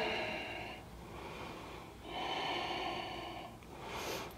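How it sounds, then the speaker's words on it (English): Slow, audible breaths during a yoga pose, drawn in and let out in long, even cycles of roughly two seconds each, close and fairly soft, with no talking. "A couple more breaths here."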